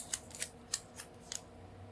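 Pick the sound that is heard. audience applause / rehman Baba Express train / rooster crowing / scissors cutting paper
scissors cutting paper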